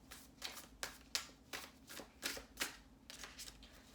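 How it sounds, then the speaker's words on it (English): Tarot cards being shuffled by hand, a quiet run of about nine crisp riffling bursts in a loose, steady rhythm, close up with no talking. "So let's pull some more cards for Jay."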